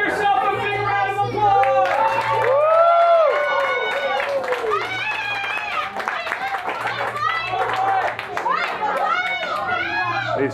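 Kids at a NASA space camp clap in a busy, uneven burst, close and loud, while many children shout and chatter excitedly over the clapping.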